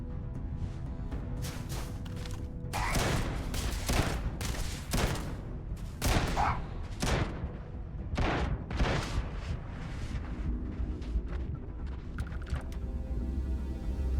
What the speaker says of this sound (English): But let's try out the new shotgun that I have.